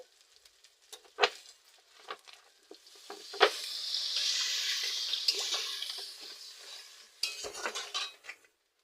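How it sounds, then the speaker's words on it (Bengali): Water splashes into a turmeric and cumin spiced curry base frying in a pan, a rising hiss of boiling liquid between scattered clinks of a spoon stirring, close and moderately quiet. "কষানো কমপ্লিট এবার আমি জল দিয়ে দেব"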